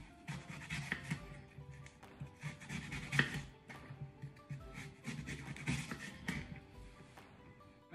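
Apples being sliced with a knife for a traditional Irish apple tart: soft, irregular cutting and scraping strokes, close but quiet, a steady run of small crunches and taps on a board.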